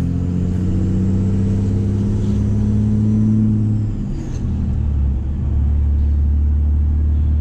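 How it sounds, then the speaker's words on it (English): A Cummins diesel pickup truck engine rumbles at a steady idle with deep droning tones, then the pitch shifts as it revs and settles into a lower, heavy drone. "You hear that truck coming a mile away."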